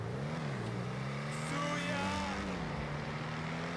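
An Emperor Vectre sports car in GTA Online, modeled on a Lexus RC-F, drives with a steady engine drone that rises in pitch as it accelerates, loud and continuous with no talk over it.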